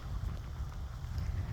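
Steady low rumbling wind buffeting a microphone outdoors on a nature trail by a large lake, constant and fairly loud throughout, with no voices.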